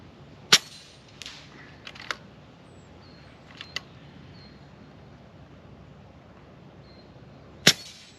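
A Kalibrgun Cricket II Tactical air rifle fires at outdoor targets: two sharp, loud cracks several seconds apart, with a few fainter clicks and taps between them over a quiet background.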